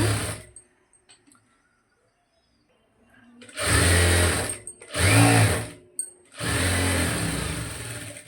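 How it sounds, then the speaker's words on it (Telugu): Sewing machine stitching a blouse, several bursts of motor whirring separated by short pauses, close and fairly loud. "నేను ఇలాగా స్టిచ్చింగ్ చేసి చూపిస్తున్నాను."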